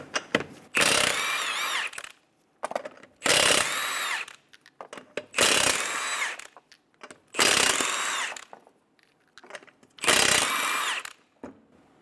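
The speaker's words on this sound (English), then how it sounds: "Remove the 5 21mm lug nuts." Impact wrench removing the five 21mm wheel lug nuts on a 2007-2012 Nissan Altima: five loud, close bursts of rattling whir, each about a second long, separated by short pauses and small clanks, with no talking.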